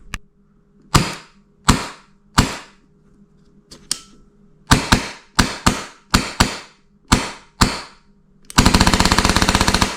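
An HPA airsoft gun with a Wolverine Gen 2 Inferno engine fires a series of sharp single shots, some in quick pairs, then a loud sustained full-auto burst at the end, all close.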